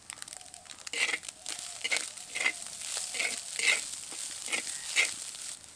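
Beaten duck egg is stirred in a hot pan while salt and sugar are added for a kachori filling, giving soft sizzling with rhythmic scraping and scratching strokes of the spatula at about one-second intervals.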